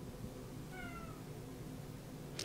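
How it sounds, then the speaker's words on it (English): A single short meow from a gray shelter cat, faint and brief against a quiet room hum, with no talking. "You cat lovers out there that love the gray cat, Mr. Gray's the one for you."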